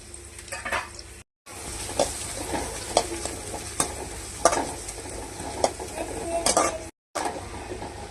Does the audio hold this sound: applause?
no